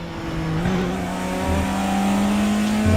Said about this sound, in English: BMW sounds so good